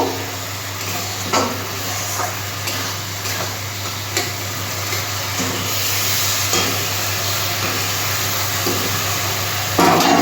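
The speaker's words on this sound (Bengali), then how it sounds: "এটা একটু ভালো করে কষিয়ে নেব" Spiced masala with okra for a Bengali small-fish curry being stirred and sautéed in a pan, giving a steady close sizzle with scattered scraping stir clicks, heard alone.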